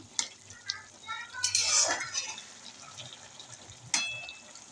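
Bottle gourd and prawn curry sweetened with sugar is stirred in a pan, with scattered clinks and scrapes of a utensil, a soft burst of bubbling and a light background sizzle, fairly quiet overall.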